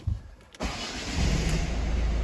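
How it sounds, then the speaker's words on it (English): A Ford Focus with an intermittent no-start fault cranks briefly, then catches and settles into a steady, loud idle, recorded close to the engine. "And we'll just start this car."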